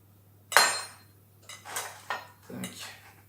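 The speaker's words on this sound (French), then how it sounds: "On va venir beurrer le moule." Butter being spread around a cake mould for a yoghurt cake with a utensil, giving a few scraping, clinking strokes of moderate loudness against the tin, separated by short pauses.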